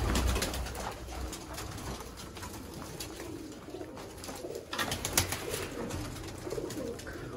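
Pigeons coo steadily over a busy, noisy background in Sialkot, their soft throaty calls repeating throughout at moderate loudness.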